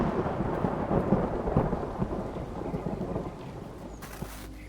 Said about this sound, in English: The rain starts. The thunder rolls again.